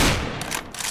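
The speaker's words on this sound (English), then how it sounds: "and the Scout used to sound like this." An old Scout sniper rifle shot from the video game CS:GO, caught mostly as a loud blast fading into a dense, echoing tail with faint crackles over about a second.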